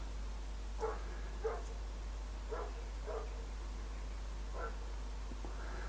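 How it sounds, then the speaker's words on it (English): Dogs bark in short bursts of two or three at a time, somewhat distant, over a steady low hum and background hiss. "You hear the dogs."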